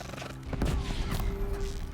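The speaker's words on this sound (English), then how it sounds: "I think it's the explosions." Explosions and gunfire in the Horizon Zero Dawn video game make a brief burst of heavy, booming thuds that rises to a loud, dense rumble and holds steady for about two seconds.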